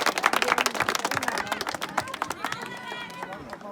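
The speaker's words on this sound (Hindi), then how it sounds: "ताली बजाओ।" Quick, dense clapping from a group rises to a lively burst, then thins out as a few voices and a musical tone carry on underneath.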